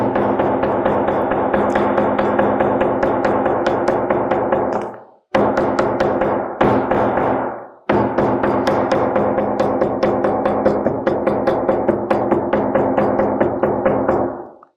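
Hammering a Steenbeek brace with a triple iron during assembly: a long run of rapid, regular, close strikes, broken by two short pauses partway through before the steady pounding resumes.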